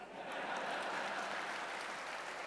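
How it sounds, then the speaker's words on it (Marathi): Applause from an audience at a school awards ceremony, a steady continuous wash of clapping filling the whole stretch at moderate level with no voices on top. "आणि बघा किती टाळ्या वाजल्या."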